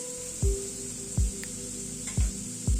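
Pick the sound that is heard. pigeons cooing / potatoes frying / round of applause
potatoes frying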